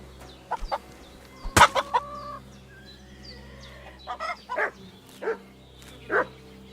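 Several chickens in Kingdom Come Deliverance II cluck in scattered, irregular bursts over a quiet background. One loud squawk stands out early, and a few fainter calls follow near and far.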